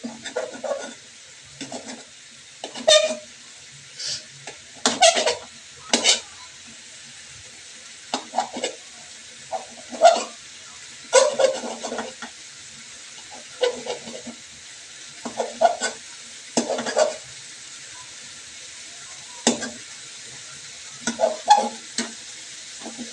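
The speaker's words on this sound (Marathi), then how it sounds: "पाण्यामध्ये मसाले तळून घेते" Spices being fried in a pan with a little water, a faint steady sizzle under repeated clattering stirs of a utensil against the pan, coming in short irregular bursts, with no talking.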